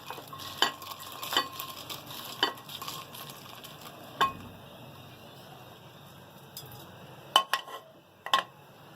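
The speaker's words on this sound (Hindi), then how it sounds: "अब हम गरम मसाले कर लेंगे थोड़े फ्राई।" Garam masala frying in a pan with a steady low sizzle, broken by sharp clinks of a metal spoon stirring against the pan at irregular intervals, close and clear with no talking.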